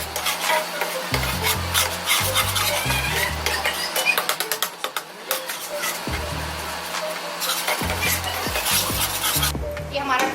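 Chopped tomatoes cook in a chicken tikka masala base and are stirred, with repeated rubbing and scraping strokes against the pan over a low sizzle, close and busy.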